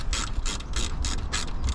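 A ratchet undoes bolts on a Ford Focus, clicking in repeated bursts of fast pawl ticks, about six strokes in under two seconds, close and steady with no talk.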